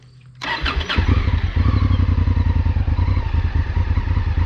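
A Honda Africa Twin adventure motorcycle fires up and settles into a loud, steady, throbbing engine note close by, with a rhythmic pulsing rumble as it rides a gravel road near Bedford, Indiana.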